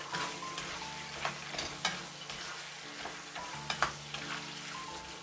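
Roasted peanuts being stir-fried into Kung Pao chicken, flavoured with dried hot chilli and Sichuan pepper, in a pan over low heat: a steady soft sizzle broken by scraping stirs and a few sharper clacks of the utensil, with no one talking.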